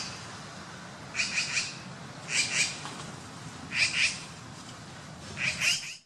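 Magpies calling to one another, four bursts of harsh, rapid chattering calls repeating at roughly even intervals over a steady background hiss, heard without any talk.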